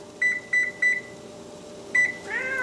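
Kitchen oven control panel beeping while the temperature is set, three quick paired beeps, then a pause and a fourth beep, followed by a falling electronic chime, clear and close.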